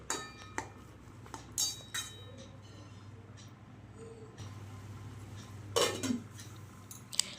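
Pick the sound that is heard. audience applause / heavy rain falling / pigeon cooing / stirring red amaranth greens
stirring red amaranth greens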